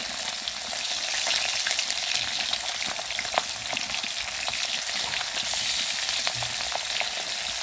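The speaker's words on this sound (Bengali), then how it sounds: "কী করে আমি কাঠের চুলায় রান্না করছি চন্দনা মাছ" Chandana fish fries in oil over a wood-fired stove, giving a steady, dense sizzle with scattered crackles and pops. The sound is close and continuous, with no talk.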